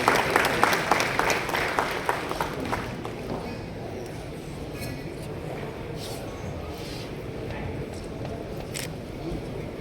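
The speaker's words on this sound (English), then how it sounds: "Let's give him a huge round of applause, everyone." Audience applause for the Honorable Governor of Maharashtra at a jewellery show gathering, strongest at the start and thinning into a steady, softer patter of hands in a large hall.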